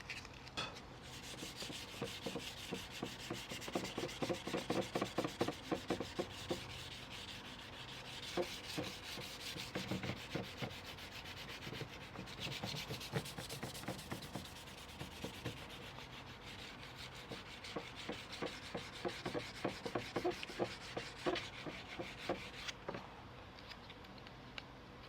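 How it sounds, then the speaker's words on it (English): Dry hand sanding of a car or motorbike part with a very small sanding block made of slipper foam, a steady scratchy rubbing in quick back-and-forth strokes, close and continuous throughout with no talk. "I'm using a very small sanding block."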